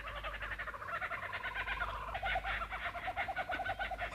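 A kookaburra in a treetop hollow in Australia gives its loud cackling laugh, a continuous rapid chuckling chorus that rises and pulses steadily throughout, close and clear with no talking.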